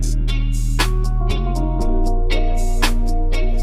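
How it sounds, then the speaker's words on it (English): Bridge section of a music beat built on a sped-up sample, with steady bass notes, sharp hi-hat and snare hits in a regular rhythm, and pitch steps in the low line, loud and close with no talk. "So the bridge sounds like this."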